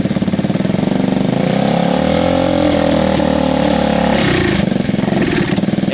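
A Gilera DNA 125cc scooter engine revs steadily at quarter throttle, a loud, continuous buzzing drone that rises slightly in pitch, holds, then drops back and wavers near the end.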